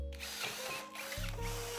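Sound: drilling aluminum extrusion

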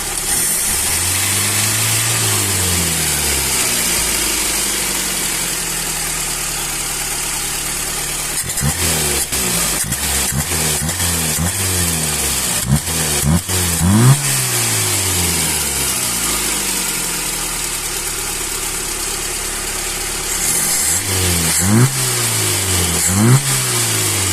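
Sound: Mercedes-Benz W124 engine revving during Solex carburetor tuning

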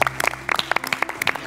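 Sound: studio audience applause

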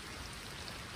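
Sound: rain falling on forest shelter

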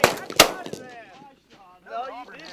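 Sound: shotgun shot while pigeon hunting

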